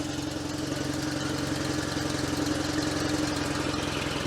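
An Invacar's small engine idles steadily on choke, a continuous close, loud mid-pitched drone with a fine rapid pulsing beat and no pauses.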